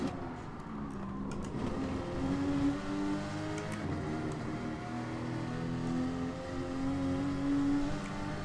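Subaru WRX race car engine in a racing video game, a steady droning roar with rising and falling revs that holds loud and continuous throughout.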